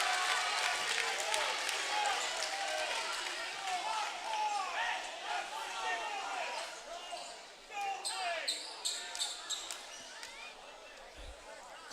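Student-section crowd at a men's varsity high school basketball game shouts and jeers in protest of an offensive foul call, a dense continuous clamor with sneaker squeaks and ball bounces near the end.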